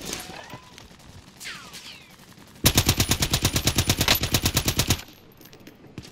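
A fast machine-gun burst from other players in a video game rattles in a steady, evenly spaced string of about twenty loud shots, preceded by quieter ambient whooshes and followed by a fading tail.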